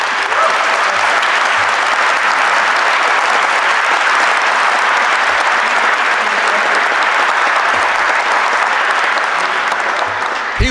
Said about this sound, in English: Why did you applaud?